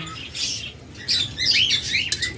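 A pair of lovebirds, one red-eyed and one black-eyed, gives several sharp, high chirps and twittering calls in short bursts, close and fairly loud, with no voices.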